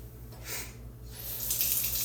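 A kitchen tap runs to rinse out a container, giving a steady hiss of flowing water that swells louder toward the end.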